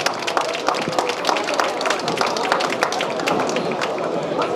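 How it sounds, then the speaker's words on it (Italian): Dense, steady applause and crowd noise from an audience at a Miss Universo 2013 pageant evening in a venue, greeting the venue's owner on stage, continuous throughout. "Un applauso!"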